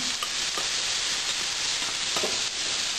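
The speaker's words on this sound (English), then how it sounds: "we'll simply brown this ham up a little bit" Ham browning in a frying pan alongside already-browned sausage, giving a steady, close sizzle and crackle with a few soft stirring scrapes throughout.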